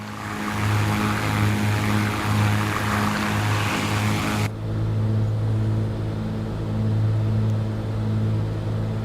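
Beechcraft Baron twin-propeller plane in Microsoft Flight Simulator 2024, a steady loud engine drone with a low tonal hum, abruptly turning duller and more muffled midway as if switching to a cockpit view.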